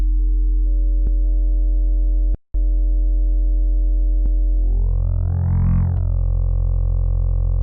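A wavetable synth tone with a couple of added harmonics holds a steady pitch, drops out for a moment, then swoops upward and back down before settling into a sustained, buzzier note.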